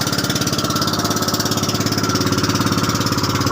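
A fishing boat's engine running nearby, a loud, rapid and steady mechanical chugging with an even pulsing rhythm throughout and no voices.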